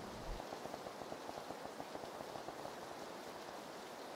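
Steady rain falls in the video game PUBG, a continuous soft patter and hiss at moderate level with a faint low thump near the start, heard alone without talk.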